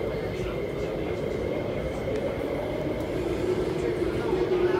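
A steady, continuous rumble of a Hong Kong C-train in motion, broad low roar with a faint high whine, unbroken throughout, with some talk underneath.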